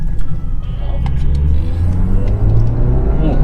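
A Nissan March Nismo's 1.5-litre four-cylinder engine revs hard, climbing quickly to around 4,500 rpm in a small car. The steady, loud, close mechanical roar rises and holds throughout.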